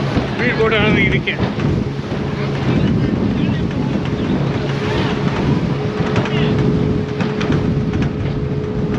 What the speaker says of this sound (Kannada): ಸ್ಪೀಡ್ ಬೋಟ್ ಅನ್ನೋದು ಇದಕ್ಕೆ.